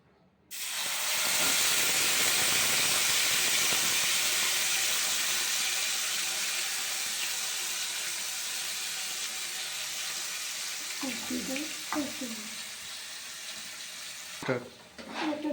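A paste of garlic, ginger, chili and onion fries in a pan. A loud, steady hiss starts abruptly and runs throughout, and a voice briefly comes through near the end.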